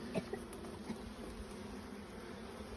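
A steady, low insect buzz hums throughout at moderate distance, with a few faint knocks and rustles near the start.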